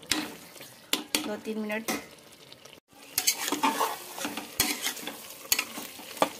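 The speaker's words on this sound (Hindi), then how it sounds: "मसाले के साथ अच्छी तरह से मटन को भूजेंगे" Mutton fries with spices in a pot, heard as scraping stirs and clattering utensil knocks over a sizzling bed, with a brief pause midway and a voice speaking over part of it.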